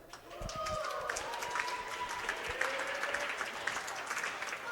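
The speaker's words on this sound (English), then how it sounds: "How about a round of applause for Marissa?" Sustained audience applause at a high school senior night event, steady and fairly loud throughout, with faint crowd murmur and cheering mixed in.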